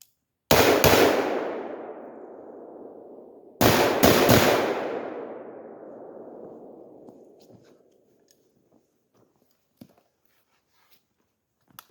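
An AR-15 rifle with a 10 inch upper fires two loud, sharp shots at dusk, each followed by a long rolling echo that fades over several seconds, then near silence with faint scattered clicks.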